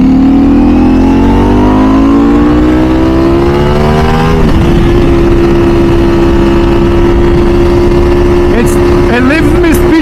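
Ducati V4 SP2 motorcycle with a race exhaust and race ECU, revving loud and close: a rising engine note climbs for about four seconds, then settles into a steady high idle, with a few sharp blips near the end.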